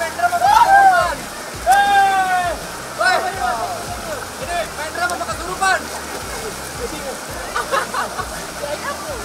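Multi-tiered waterfall in Yogyakarta rushing with a steady broadband roar, while people talk and call out loudly over it.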